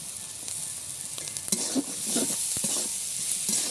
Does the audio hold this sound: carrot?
yes